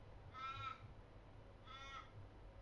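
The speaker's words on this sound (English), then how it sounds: "just outside birds are going crazy right now" Two harsh crow caws sound from outside at moderate distance, a second apart, over a steady low background hum.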